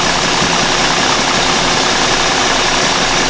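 A Ford F150 engine idles steadily with the AC compressor clutch engaged and spinning, a loud, continuous, broadband hum and whir with no voices.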